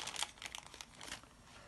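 A small plastic bag holding yarn and ribbons for a lacing fidget crinkles as it is handled, quick irregular rustles and crackles close by, fading toward the end.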